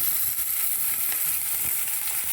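Vegetables frying in hot oil while cooking a potato, peas, capsicum and fish curry, a steady close bright sizzle crackling evenly throughout with faint stirring and no talk.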